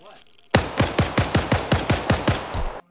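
Game gunfire in The Last Ship campaign comes as a close, punchy burst of about ten evenly spaced shots in quick rhythm, each with a sharp crack and short boom, then cuts off abruptly.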